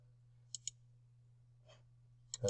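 Computer mouse clicking during slide editing: a quick double click, a faint soft tap, then another click pair near the end, all close and crisp over a low steady hum.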